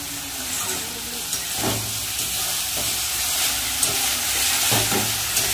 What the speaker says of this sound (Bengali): মশলাটা ভালো করে কষিয়ে নিয়েছি, এবার জল দিয়ে দেবো।